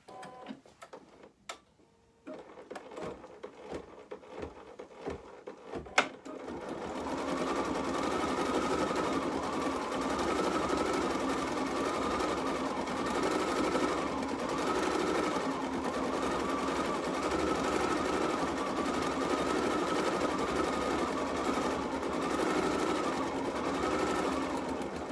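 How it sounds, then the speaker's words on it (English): An embroidery machine stitches a small snowflake design, running as a steady, close mechanical whir with a rhythmic pulsing pattern that continues unbroken after a few brief clicks and handling sounds at the start. "I'm going to go ahead and stitch that little snowflake there"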